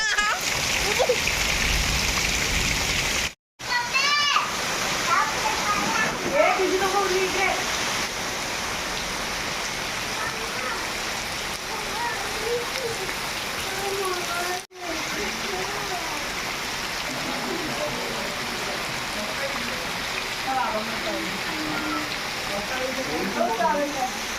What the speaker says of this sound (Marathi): पाऊस पडतोय पाणीच पाणी